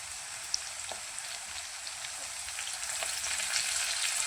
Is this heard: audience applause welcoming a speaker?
no